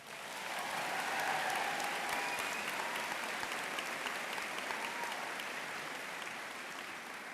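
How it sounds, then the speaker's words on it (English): Applause at a high school graduation, a crowd clapping in a steady, sustained wash that swells in the first second and then slowly eases, with faint whoops scattered through it. "So give yourselves a round of applause."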